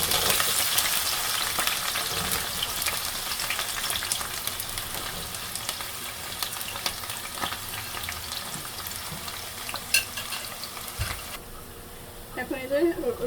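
Onions fry in a pan for papaya masoor dal, giving a loud, continuous close sizzle with occasional stirring clatter and a brief voice near the end.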